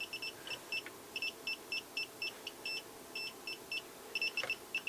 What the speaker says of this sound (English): More beeps.